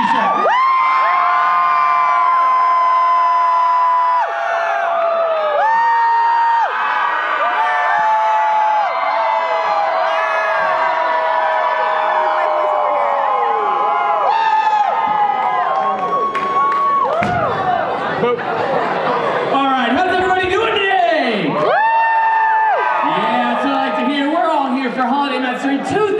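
Crowd at a holiday matsuri screaming, whooping and cheering nonstop to win a t-shirt, loud and dense with children's shrieks layered throughout.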